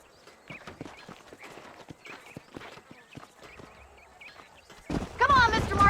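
Horse hooves clopping in Red Dead Redemption, a steady rhythm of moderate hoofbeats under a voice, with louder sounds swelling at the end.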